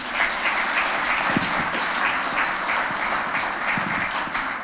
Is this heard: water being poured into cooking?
no